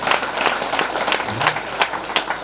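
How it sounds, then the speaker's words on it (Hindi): A crowd at a Bhagwat katha religious gathering claps together, a lively, steady round of applause with occasional louder individual claps standing out. "ताली बजाओ"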